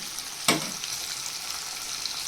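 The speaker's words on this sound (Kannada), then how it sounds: "ಹಾಕ್ಕೊಂಡು ಎಲ್ಲನೂ ಚೆನ್ನಾಗಿ ಫ್ರೈ ಮಾಡ್ಕೊಬೇಕು" Chow mein frying in a pan with chilli sauce and ketchup, a sharp clatter at the start and then a steady broad sizzle that runs alone throughout.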